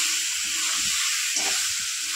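Cumin, chilli and turmeric powder sizzle with small potatoes in hot oil for a rohu fish curry, a steady close hiss with faint stirring underneath.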